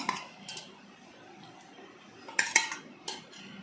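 A metal spoon stirs curd in a vessel with light scraping, then a cluster of bright clinks and taps against the pot.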